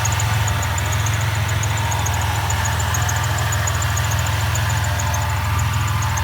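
A 2002 Oldsmobile Alero with the 3.4 liter 3400 SFI V6 idles after startup, a steady low engine drone with a faint high whine, constant and close with no talking.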